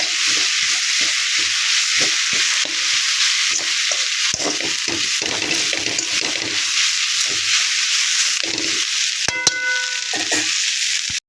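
Drumstick leaves sizzle loudly in a pan under a ladle, a steady close frying hiss broken by repeated scraping turns and a few metallic clinks near the end.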